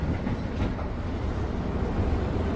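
A truck hauling a hitched container accelerates on a road in Spain, giving a continuous low, rumbling engine and road drone up close, with no voices.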